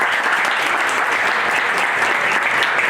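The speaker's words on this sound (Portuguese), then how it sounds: "Uma salva de palmas, por gentileza." An audience at a business lecture by a university rector applauds steadily and densely, a continuous wash of many hands clapping at an even level throughout.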